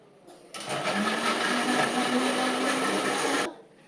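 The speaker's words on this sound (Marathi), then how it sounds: "आता मी त्याला मिक्सर मधून फिरवून घेते." An electric mixer grinder churns milk cream with ice to make ghee, switching on after about half a second and running as a loud, steady whirring drone for three seconds before cutting off.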